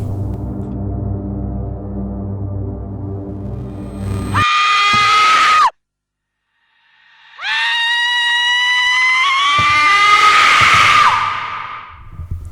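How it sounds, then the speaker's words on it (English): A disfigured girl in a horror video game screams, two long, shrill, strained screams separated by a brief silence, loud and close, the first preceded by a low droning hum. "These screams are truly horrifying."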